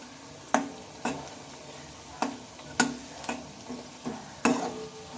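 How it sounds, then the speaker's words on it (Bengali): Flat beans frying in a pan with a faint sizzle, punctuated by several sharp spatula scrapes and knocks at irregular intervals. "ঘুরিয়ে ঘুরিয়ে এইভাবে ভালোভাবে ভেজে নিতে হবে"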